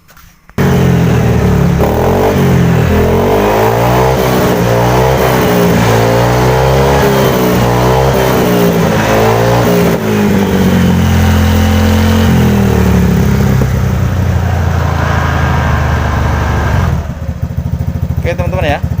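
A Honda PCX motor scooter engine fires up on its starter after a brief quiet moment and keeps running loudly nearby, revving a little before settling into a steady idle.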